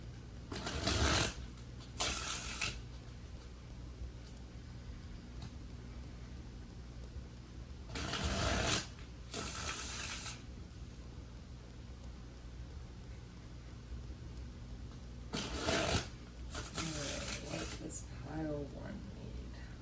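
Oracle cards being shuffled in several quick riffling bursts, close by, separated by quiet pauses with faint background hum.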